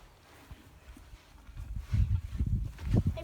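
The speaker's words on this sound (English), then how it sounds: "We can watch the horse for a few minutes." A horse moving about near its hay, hooves giving low, irregular thuds and clops that grow louder and busier toward the end, with faint background noise and no clear speech.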